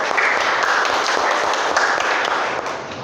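Class participants applauding during an online history teacher-training session, a dense, steady patter of many hands clapping together at close range, sustained evenly throughout.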